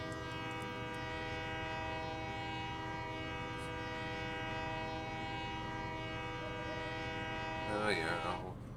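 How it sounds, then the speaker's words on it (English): A train in a railway video game rumbles past with a long sustained horn blast sounding throughout, steady engine drone beneath, and a brief swell of rail noise near the end. "Train has been spotted."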